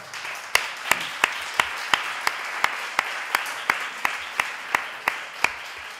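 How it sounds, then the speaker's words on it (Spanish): Audience applause at a blogging and media conference in Granada after an interview, a sustained wash of clapping punctuated by regular sharp claps close to the microphone, with no speech. "con un aplauso tanto a Ícaro como a César."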